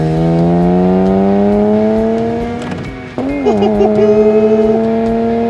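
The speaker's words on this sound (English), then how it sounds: "It's a stripped out, striped out, Mzansi-style race car. And you know what? It moves!" A stripped-out Mzansi-style BMW race car with no aircon revs hard, its engine note climbing steadily, then dipping briefly around a shift before pulling again, loud and close.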